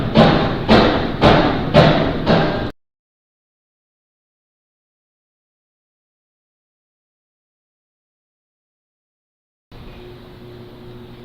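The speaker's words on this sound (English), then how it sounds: "I just set those cards straight down" Trading cards set down on a table during a Bowman Draft release-day break: a quick run of five sharp, evenly spaced thumps over about three seconds, then silence, then a low steady hum from a nearby washing machine.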